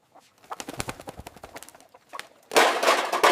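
A rooster crows loudly and close by at the end, after a run of shorter clucking and bird calls.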